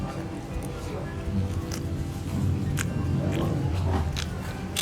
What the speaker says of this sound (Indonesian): Berasa kan dari suara pas saya ngunyah aja berasa banget kan kriuk-kriuknya.